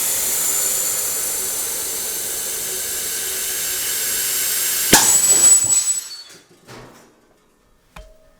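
Compressed air hisses steadily from a line at 175 PSI, a loud, constant leak. It ends in a sudden burst as a cap blows off the end, then fades to near silence.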